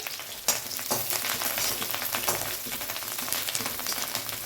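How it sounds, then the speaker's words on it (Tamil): Green chillies hit hot oil for veg Maggi noodles, setting off a loud, steady sizzle and crackle that jumps in sharply after the first half-second and holds dense and close throughout, with no voices. "இப்போது நான் எடுத்து வச்சுருக்க பச்சை மிளகாய் போடுறேன்"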